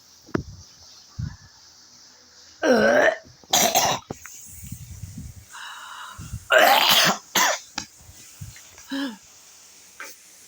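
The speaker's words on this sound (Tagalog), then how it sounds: "Pag nahanginan ako, inaatake ko ng ubo." Several harsh, wet coughs come in bursts, some paired in quick succession, with throat clearing and short quiet gaps between fits, close to the listener.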